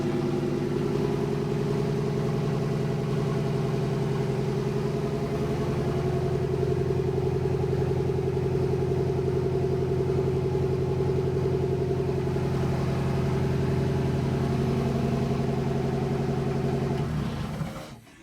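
Ford Fiesta Mk1 with a Cosworth engine and only a downpipe fitted, idling loud and close with a steady, unbroken drone that holds for the whole stretch before cutting off abruptly at the end.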